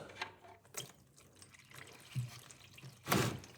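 Oil and water mix draining from the gearbox of a Subaru Sambar, with intermittent trickling and splashing bursts near the mic and a louder gush toward the end.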